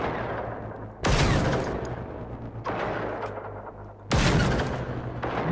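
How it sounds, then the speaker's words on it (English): Two heavy booming shots from a big gun in Generation Zero, each a loud sharp blast with a long rumbling tail, spaced about three seconds apart over a steady low hum. "Bring in the big gun."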